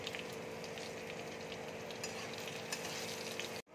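Flat beans sizzle in hot oil in a pan for a Bengali sheem chorchori, a low steady frying crackle with a few faint stirring scrapes, no voices.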